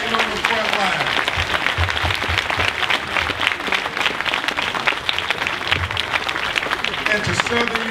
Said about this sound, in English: y'all give them a round of applause for fighting on the front line